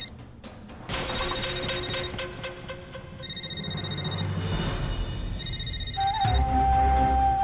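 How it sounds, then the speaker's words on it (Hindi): A telephone rings in repeated electronic trill bursts in a Hindi TV serial scene, loud and steady over background music, with a brief tonal sting near the end. "बजने दो इस फोन को।"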